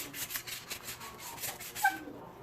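Sandpaper rubbed by hand over a Bonegrip slingshot in quick back-and-forth strokes, a soft dry rasping rhythm that is faint and close, stopping abruptly near the end.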